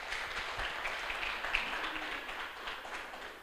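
A church congregation applauding after an evening sermon introduction, a steady diffuse patter of many hands clapping at moderate volume, sustained throughout without speech.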